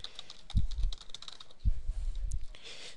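Keys clatter in quick bursts of typing on a computer keyboard while a field name is entered into an email template setup, with two short clusters of close, crisp keystrokes and no talking.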